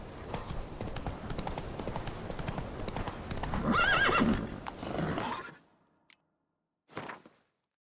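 Roach the horse gallops in The Witcher 3 video game with rapid, rhythmic hoof clip-clops and a whinny near the middle, then the hoofbeats fade into silence, broken by two short thumps.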